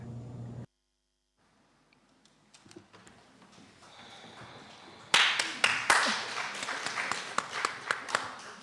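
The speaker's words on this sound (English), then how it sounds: "On behalf of Tony Larson, I accept the applause" A crowd breaks into applause after a brief silence: scattered claps build into dense, steady clapping that carries on to the end.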